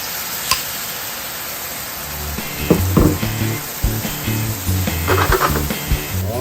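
Sauce hits eggplant in a hot pan during Japanese home cooking, bursting into loud sizzling and crackling that swells in bubbly pulses after a quieter start, close up and without talk.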